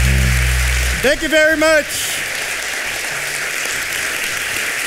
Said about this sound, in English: Clap your hands, ladies and gentlemen.